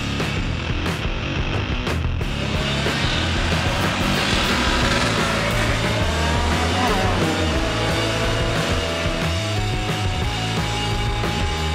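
Race cars run on a circuit during a Racing Day event in Ceará, a continuous loud engine roar with rising and falling pitch as cars pass, steady throughout with no talk.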